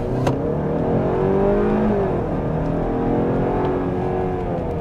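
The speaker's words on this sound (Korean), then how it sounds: "지금 여기서 가속을 하고 부하가 높을 때 GDI가 깨어나거든요." Kia K7 2.5 GDI engine pulling under acceleration and high load, a steady, loud engine drone with rising harmonics throughout, no talking.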